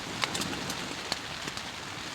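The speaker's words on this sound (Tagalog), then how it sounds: "kung maririnig nyo na, kung mapapansin nyo, umuulan na" Soft, steady patter of evening rain at a campsite on an uninhabited island, with a few sharper drops tapping nearby, fairly quiet overall with no voices.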